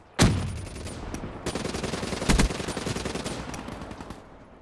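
A sustained burst of rapid automatic fire from the Kuda submachine gun in Black Ops 3, loud and rattling for several seconds with a brief stutter midway.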